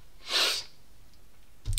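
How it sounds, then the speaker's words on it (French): A single sharp sneeze bursts out close by, then a stretch of near silence before a faint muffled sound at the very end. "Je vais éternuer."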